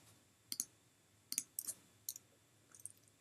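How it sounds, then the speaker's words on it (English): A computer mouse clicks while selecting and renaming items in Chief Architect design software: about half a dozen crisp, quiet clicks, some in quick pairs, spaced irregularly against a near-silent room. "I'm just clicking once to select and then click again to rename it."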